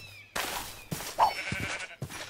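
Sheep in the video game RLCraft bleat several times in close succession, fairly near and clear, each cry short and wavering with brief gaps between them.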